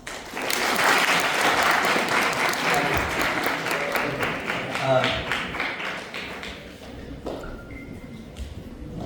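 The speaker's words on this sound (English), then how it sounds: "If you can hear me, clap once." Audience at a business talk session breaking into dense clapping, loud at first, then thinning and fading out with a few scattered claps.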